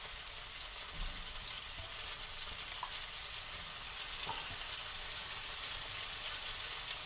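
Potatoes and partly cooked onion frying together in a pan give a continuous soft, even sizzle with a few faint taps, quiet and steady throughout.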